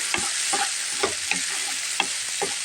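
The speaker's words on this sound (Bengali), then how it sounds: "আলুটা ঢেলে দিলাম এখন একটু সুন্দর করে নাড়াটা দিয়ে দেবো" Potatoes being stirred in a sizzling pan of cooked lentils, a spoon scraping in a steady rhythm of about seven strokes over constant loud frying hiss, close up with no talking.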